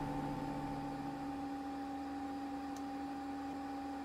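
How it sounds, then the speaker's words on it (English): An old computer booting up in a video game gives off a steady electrical hum with two sustained tones over faint hiss, quiet and unchanging, with a tiny click near the end. "Do you remember when computers used to sound like this?"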